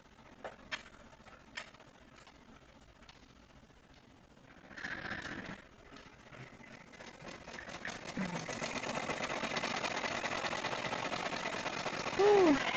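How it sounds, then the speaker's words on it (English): An embroidery machine sews a satin stitch around a leaf design. Faint ticks give way to a steady mechanical whir that builds and holds, with a brief louder chirp near the end. "now it's telling me I want to do the satin stitch around this leaf."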